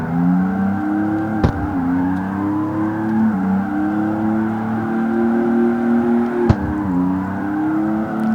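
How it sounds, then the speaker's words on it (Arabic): Engine of a car drifting in the racing game CarX Street, a steady revving drone with rising pitch sweeps and two sharp clicks, loud and continuous with no talk. "خليني نغمض عيني ونعمل دريفت"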